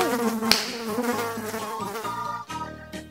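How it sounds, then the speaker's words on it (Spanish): Mosquito buzzing close by, a loud whining drone with wavering pitch that sweeps and fades as it moves around, with a sharp tap near the start. "¡Es que hay un mosquito!"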